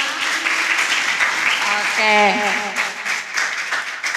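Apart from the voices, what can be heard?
audience applause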